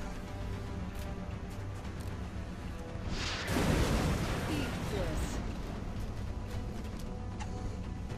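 A rocket launcher fires in XCOM Enemy Unknown, a single whooshing launch and burst of noise rising over quiet background hum, then fading back to a low ambient drone.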